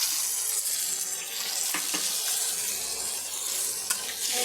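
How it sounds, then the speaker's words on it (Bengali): Crushed fennel and coriander spices sautéing in a pan with a splash of water for a bottle gourd dish, a soft continuous sizzle and hiss with a few faint stirring scrapes, close and even. "এবার এইগুলো আমি একটু কষিয়ে নিচ্ছি যে হামল দিস্তায় থেতো করেছিলাম তাতে করে একটু জল দিচ্ছি"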